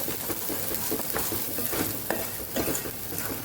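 Masala sautéing in oil in a pan for a spicy Kathiyawadi drumstick gravy curry, a steady close sizzle and crackle with occasional scraping stirs.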